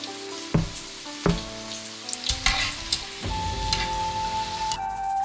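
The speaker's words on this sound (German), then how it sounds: "Die Auberginen bei mittlerer Hitze 2 bis 3 Minuten frittieren" Battered eggplant pieces deep-fry in hot oil at medium heat for a vegan Chinese dish, crackling and sizzling steadily up close, with a few sharp clinks of a utensil stirring the pot.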